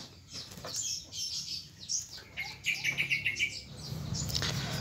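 A pet pied fantail chirps in bright, quick phrases, with a run of rapid repeated notes in the middle, close and clear over faint room noise, with no talking.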